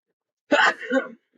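A single sharp, explosive sneeze up close, followed by a brief faint breathy sound.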